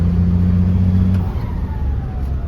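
A Mitsubishi Super Great 12-wheel dump truck with a 6UZ1 engine revs loudly and steadily nearby, its deep drone easing off partway through as the pitch shifts, with no speech over it.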